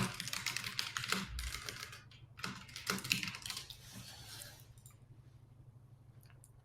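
A title is typed on a computer keyboard in quick bursts of close, crisp key clicks, with short pauses between runs, then the clicking fades to near quiet.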